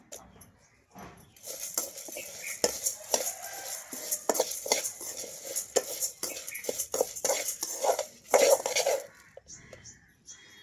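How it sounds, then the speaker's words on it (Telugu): Garlic is tipped into a pan and stirred while cooking kandi pachadi, a toor dal chutney, giving repeated scraping and clinking of a spoon against metal with a light sizzle, under someone speaking. "ఎల్లుల్లిపాయలు వేసుకుంటున్నాను"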